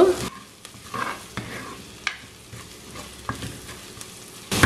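Breadfruit stir fry with chilli powder sizzles in a pan while a spoon stirs it, several sharp scraping strokes standing out over the steady frying hiss, close up and with no talk.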